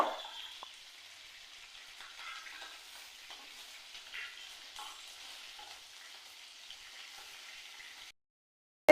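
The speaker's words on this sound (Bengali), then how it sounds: "চিংড়িগুলোকে উল্টে পাল্টে ভেজে নেব।" Giant freshwater prawns frying in mustard oil give a soft, steady crackle with occasional louder spatters as they are turned in the pan, faint and close, with no talking before the sound cuts off near the end.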